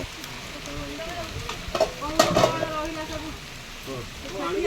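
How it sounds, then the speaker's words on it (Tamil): Rain begins to fall, a broad steady hiss and patter that swells briefly, with voices talking over it. "பாருங்க மழை வந்துருச்சு"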